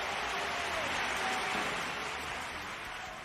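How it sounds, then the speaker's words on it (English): A studio audience claps for a contestant on a quiz-style game show, applause steady and broad for about three seconds, moderately loud and slowly tapering at the end with no voices over it. "give him a round of applause, Natch."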